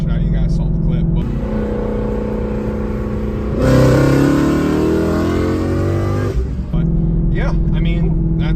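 A 1,000-horsepower GT500 car accelerating hard, a loud engine roar that swells and climbs in pitch for about three seconds in the middle, with steadier engine sound around it and people talking.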